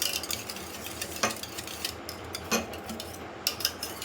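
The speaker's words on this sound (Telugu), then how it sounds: "ఇది మనం ఇలా బీటర్తో చక్కగా ఇలా కలిపేసుకుంటే అది మిక్స్ అయిపోతుంది" Curd being whisked with a hand beater in a bowl, giving steady soft scraping and stirring clatter with a few sharper utensil knocks against the vessel, close and moderately quiet, with no voices.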